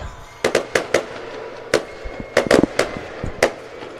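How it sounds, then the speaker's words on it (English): Fireworks going off outdoors before a high school football game, a rapid irregular series of sharp, loud bangs and pops, some in quick clusters, with a faint crowd murmur underneath. "Fireworks going off now as we get ready to go."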